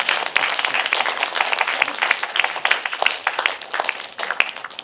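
Lecture audience in a cinema hall breaking into steady applause, dense clapping from many hands at moderate distance, sustained for several seconds without speech.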